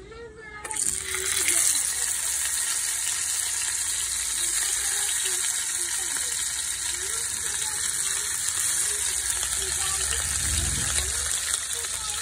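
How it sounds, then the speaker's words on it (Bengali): Fish rubbed with salt and turmeric fries in a hot pan, giving a constant close sizzle and crackle that runs unbroken throughout, with a few brief clatters near the end. "এখন মাছগুলো ভাজবো। প্যান গরম হয়ে গেছে।"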